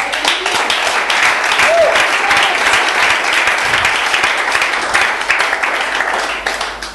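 Congregation at a healing retreat applauding and cheering, a loud sustained wash of many hands clapping with a brief voice rising over it, fading near the end.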